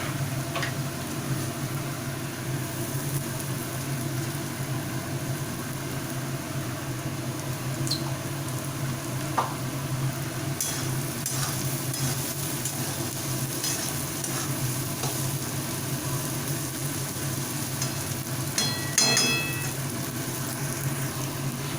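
Vegetable chow mein noodles stir-fried in a pan, a steady sizzle with continuous stirring and scraping throughout, occasional sharper clinks of the utensil against the pan.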